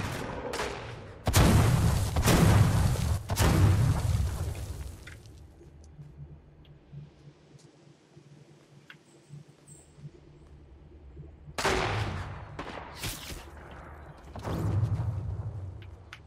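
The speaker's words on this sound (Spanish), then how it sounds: "Se escuchan balazos por todos lados." Gunfire crackles from several directions in the video game Fortnite, with dense loud bursts at the start, a quieter stretch in the middle, then more shots near the end.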